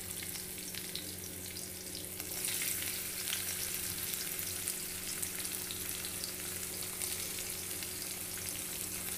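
Garlic hits hot oil in a pan for a mixed bhindi and kundru dish, a steady close crackling sizzle that swells a little after a couple of seconds, over a low constant hum with no talking.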